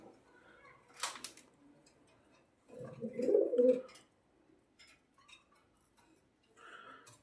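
Pigeons coo at night in a darkened loft, a low throaty burst in the middle with softer calls near the end, amid faint ticking and scattered small noises in an otherwise quiet space.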